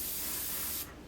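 A pressurised spray gun, set to about 12 pounds, sprays on a model ship in a steady close hiss that cuts off sharply near the end.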